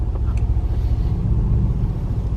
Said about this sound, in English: Oh, the sound of this car.